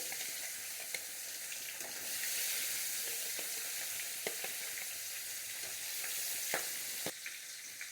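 Black catfish (magur) pieces sizzling in oil over low heat for a ginger catfish curry, a steady hiss with scattered soft pops and crackles, close and alone with no talking.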